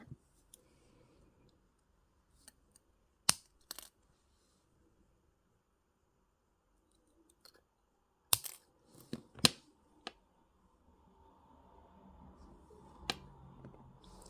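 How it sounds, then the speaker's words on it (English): Jewelry wire snipped with cutters while making a wire wrap pendant: a few sharp, isolated clicks and snaps scattered across near silence, close and crisp, with a faint rustle of handling toward the end. "I'm going to cut these 2 wires and just do little curls there"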